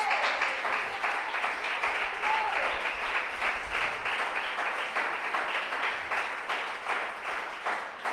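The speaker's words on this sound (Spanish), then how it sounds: "Dele un aplauso a Jesús." Congregation at a Sunday church service applauds, a dense, steady wash of many hands clapping together from the hall, continuous for several seconds at moderate volume with no talk.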